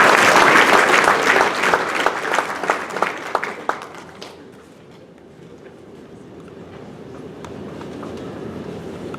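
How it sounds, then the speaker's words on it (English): A crowd at a soccer program's senior speech gives a loud round of applause that thins into scattered claps and fades out after about four seconds, leaving quiet room noise. "Let's give Vishesh a round of applause."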